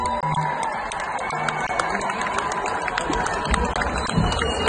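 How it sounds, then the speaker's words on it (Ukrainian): An audience at a Mykolaiv 230th anniversary celebration concert applauds in a steady, dense wash of clapping with faint cheering, lasting throughout at a moderate, even level. "Дорогие друзья, нужны громче аплодисменты."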